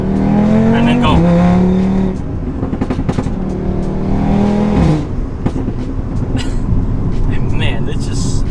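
A modified 2018 Audi RS3 accelerating hard, the engine note climbing sharply and dropping at quick gear shifts, loud and close, with a person talking over it.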